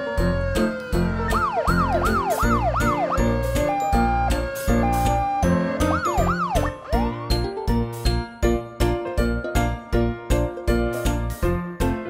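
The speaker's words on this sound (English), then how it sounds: "Police car." Toy police car siren wailing in repeated rising-falling sweeps, loud and close, over busy jingling toy music with steady bell-like beats, no voices.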